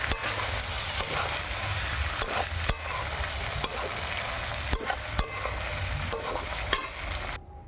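Ghugni cooks for dinner with a constant broad frying sizzle. A utensil strikes and scrapes the pot in irregular stirring knocks, close up, and no one speaks.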